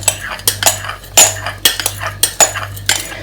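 A spoon stirs a homemade leave-in conditioner with aloe vera in a bowl, giving a series of close, bright metallic clinks and scrapes against the dish in an uneven rhythm, heard alone over a low steady hum.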